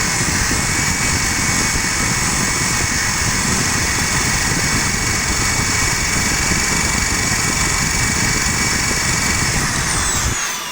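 A homemade generator built from an induction motor runs continuously with a loud, dense whirring drone and high steady whine, close and unchanging for the whole stretch before easing slightly at the end.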